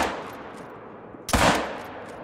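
A single sharp 45-70 rifle shot in a hunting video game, a loud close crack with a short decaying tail rising out of a quieter rustling background.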